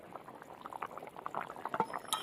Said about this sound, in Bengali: তো এরকম থাক, ঢাকা দিয়ে দেবো, 2 মিনিট মতো একটু ফুটিয়ে নেব।